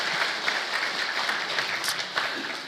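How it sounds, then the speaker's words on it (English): Audience applause honoring Marty, a woman living with Parkinson's disease, at a medical talk, a dense steady wash of clapping from a crowd that holds for the whole stretch with no voices over it. "Let's give Marty another round of applause."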